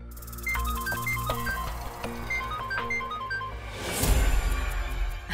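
A mobile phone rings late at night, its melodic ringtone playing as a repeating sequence of bright tones, close and clear, before a louder rushing noise swells near the end.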